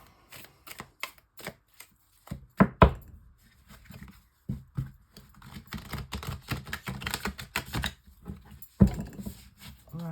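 Tarot cards shuffled and laid out for a six-card spread, heard as a close run of soft slaps, flicks and taps with a couple of louder knocks, no talking.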